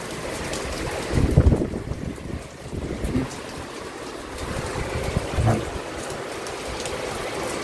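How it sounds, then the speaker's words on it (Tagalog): Strong typhoon wind gusts in rolling low blasts over a steady wash of rain, with the loudest surges coming a few seconds apart and no voices. "Ganito na ho kalakas ang hangin dito,"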